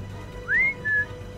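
A person whistles two short rising-then-level notes in a video game, Batman Arkham Knight, clear and close with quiet background hum between.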